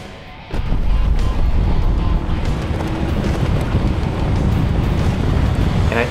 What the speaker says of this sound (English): I actually took this out to the desert and did some donuts and strapped it onto my 4Runner.